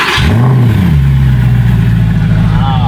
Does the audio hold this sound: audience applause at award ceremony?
no